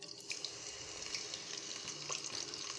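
Onion paste frying in a cup of hot oil in a kadai, a faint, steady hissing sizzle with a few small pops and crackles.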